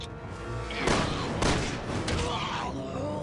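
Gunfire in Resident Evil 6 during Leon's campaign demo, as a co-op partner shoots at an enemy in a quick time event: loud, booming shots and heavy impacts, with two sharp bursts standing out over a dense, rumbling game mix.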